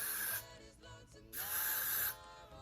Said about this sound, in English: I'm going to spray this, all these curls